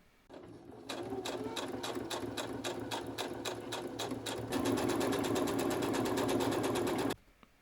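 A sewing machine stitches along the edge of a sweater being made into a cardigan, a fast, steady mechanical chatter that runs for several seconds, grows louder partway through, then stops abruptly.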